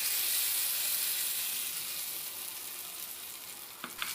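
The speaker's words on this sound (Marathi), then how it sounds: "गरमागरम फोडणी चटणीवर टाकूयात" Hot tadka of oil with sesame seeds and a pinch of hing poured onto a chutney, a loud close sizzle that slowly fades, then a couple of sharp spoon or bowl clinks near the end.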